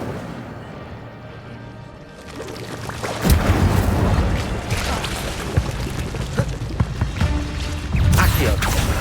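Fiery spell blasts in Hogwarts Legacy, a loud whooshing burst that kicks in after a quieter opening and roars on with crackling impacts, surging again near the end.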